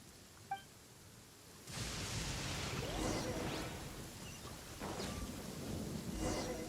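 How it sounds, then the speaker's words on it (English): A thunderstorm in the Genshin Impact video game: after a faint blip, steady rain and a broad rumbling roll of thunder rise sharply and continue loud, with a few sharper cracks. "Uh-oh! Lightning storm!"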